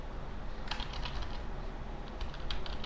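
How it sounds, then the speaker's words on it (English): Rapid typing on a computer keyboard while entering a git command: soft, close key clicks in quick bursts over a low background hum. "So if I wanted to, I would just type git push"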